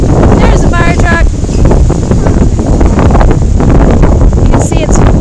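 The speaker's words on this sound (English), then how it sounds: "It is very windy." Strong tropical storm wind near the water at a flooded pass, loud buffeting roar battering the microphone throughout, with faint bits of voice and rustling caught under the gusts.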